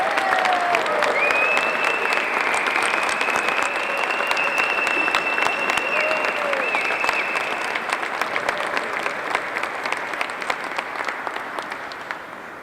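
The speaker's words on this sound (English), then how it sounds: "Would you give Dennis Norton a big round of applause, ladies and gentlemen?" Audience applause in a room during an airport runway re-dedication ceremony, a dense, loud and steady clapping that carries on alone for several seconds and slowly fades.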